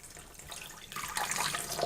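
Lukewarm water pours into yeast for bread dough, a soft, close splashing trickle that grows fuller and louder toward the end of the short pour.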